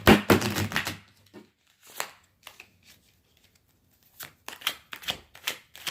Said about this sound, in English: I'm going to give it one more shuffle for the Eight of Wands.